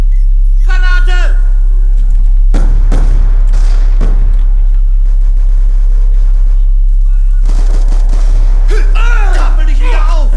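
A grenade blows up in Call of Duty Black Ops 2 multiplayer with a sharp, heavy thud followed by a short rumbling tail, amid other game effects, with a voice talking briefly before and after.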